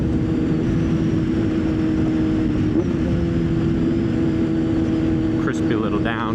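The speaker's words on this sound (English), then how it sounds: "Crispy little downshifts." A motorcycle engine drones loud and close while riding, its pitch dipping briefly during quick downshifts, with wind rush throughout.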